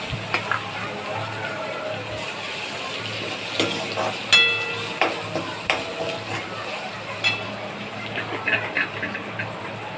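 Onion and tomato fry in a pan for a Maharashtrian ghevda dish, a soft, low sizzle running throughout with scattered clicks and scrapes of stirring, close and fairly quiet.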